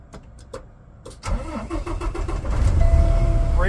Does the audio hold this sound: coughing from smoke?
no